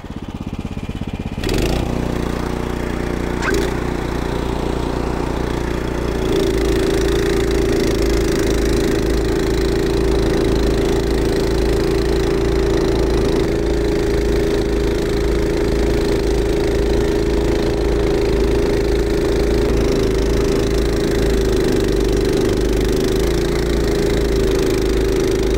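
Evoline tracked two-stage snow blower engine running in fourth gear, a loud steady mechanical drone with a constant hum that continues unbroken throughout after a brief start, no talking.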